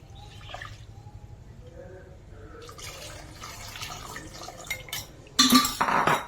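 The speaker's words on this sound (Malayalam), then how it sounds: "അങ്ങനെ പുളിവെള്ളം ഒഴിച്ച്" Tamarind water is poured into a cooking pot, a splashing gush that rises loudly near the end, with faint clinks of utensils before it.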